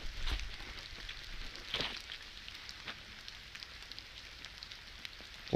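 Rain falling in a wood during a walk, with scattered close drips and patters over a soft, steady hiss, a few sharper drops standing out here and there.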